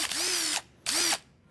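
Two short bursts from a power drill whirring up to speed, each lasting about half a second with a brief pause between, loud and close.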